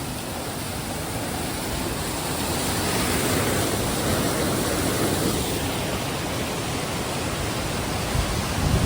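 Loddha waterfall near Salur, a steady broadband rush of falling water heard up close, loud and unbroken, rising slightly midway, with no voices.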